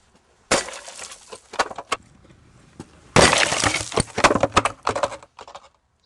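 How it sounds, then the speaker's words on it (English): Tempered safety glass struck by a firefighter's tool bursts into fragments, a loud crash followed by a long scatter of tinkling, crackling pieces, then a second louder burst with more falling shards. "now you're going to go after this tempered glass, you're going to create a bomb of fragments"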